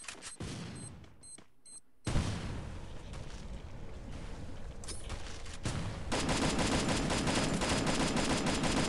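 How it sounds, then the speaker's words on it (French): A grenade blast and heavy gunfire in a video game, likely Fortnite: a sudden loud boom followed by sustained rapid shooting that grows denser and louder toward the end, close by and with no talk. "Grenade!"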